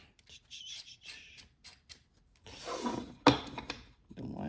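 A center hole drilling jig for woodworking is screwed into place, giving faint scraping, rubbing and clicking noises in short bursts, then a sharp knock followed by a brief rasp.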